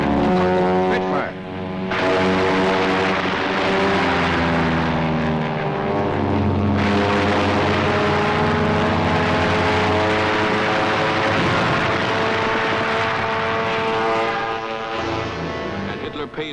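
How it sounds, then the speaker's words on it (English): An RAF Spitfire fighter roars overhead in a loud, sustained propeller-engine drone with shifting pitch, steady for most of the pass and easing off near the end. "Spitfire."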